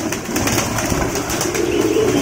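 Pigeons coo continuously and close by at a large loft while feeding, soft repeated calls layered over one another.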